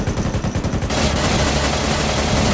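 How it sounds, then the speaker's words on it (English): Loud, rapid automatic gunfire in ArmA 3 during a helicopter operation, a rattling machine-gun burst up front that gives way to a dense, continuous roar of fire. "they're shooting at us"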